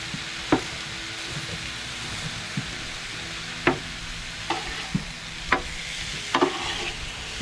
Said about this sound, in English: I'm cooking with high heat.